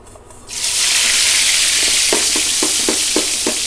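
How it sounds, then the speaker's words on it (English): Eggplant shallow-fries in a pan of hot oil, a steady loud sizzle starting abruptly after a brief quiet moment, with a few soft clicks near the end. "I'm just gonna fry this, shallow fry"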